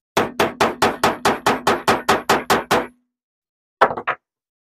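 A hammer pounds a metal grommet into a denim fabric basket: eleven sharp, evenly spaced strikes in quick succession, loud and close. After a pause come two or three more quick blows.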